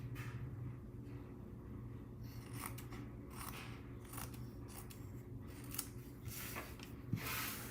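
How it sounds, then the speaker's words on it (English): Scissors cut paper scraps to trim the overhanging edges of handmade holiday cards. Crisp snips repeat unevenly over a steady low background hum, close up and with no voices. "we're going to cut off everything hanging over the edge"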